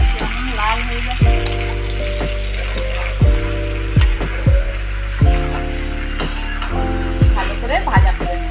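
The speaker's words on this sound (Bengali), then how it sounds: "ভালো করে ভাজা করে নেব" Prawns sizzle in a pan for a prawn malai curry, a bright steady frying hiss punctuated by repeated metallic clinks and scrapes from stirring, with a low electrical hum underneath.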